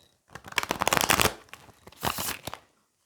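Rapid riffling of tarot cards being shuffled, a dense burst of papery flicks, a brief pause, then a second shorter shuffle up close.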